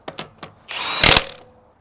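An impact gun torques down the rear wheel hub nut on a Lexus IS 200t after a wheel bearing replacement. It gives a few short close rattling bursts, then one longer, louder hammering run that stops abruptly.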